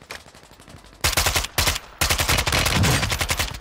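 VEL 46 (MP7) submachine gun firing in the video game Warzone, a short burst followed by longer rapid bursts, loud and close.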